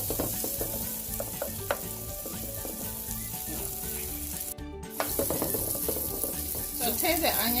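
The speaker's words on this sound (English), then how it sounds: "Saute the onions" Sliced red onion sautéing in melted butter in a large skillet over medium heat, a continuous close sizzle with scattered stirring scrapes and clinks, growing busier toward the end.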